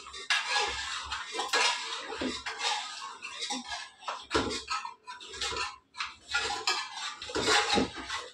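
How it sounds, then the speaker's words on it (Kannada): Metal spoon scraping and clinking against a pot while mashing cooked lentils for a greens sambar, in irregular close bursts of tapping and scraping with short pauses between. "ಇದನ್ನು ಕ್ಲೀನಾಗಿ ಬೇಳೆನ ನ್ಯಾಶ್ ಮಾಡ್ಕೊತೀನಿ ಒಂದು ಸ್ಪೂನಿಂದ"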